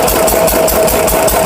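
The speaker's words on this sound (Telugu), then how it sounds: "అలాగే కూడా ఒక ఇంజిన్ ఉంది చూడండి, వాటర్ తోటి ఇంజిన్ అనమాట" A garden water pump engine chugs steadily at close range, a loud pulsing idle with a regular knocking rhythm and light rattle, heard alone.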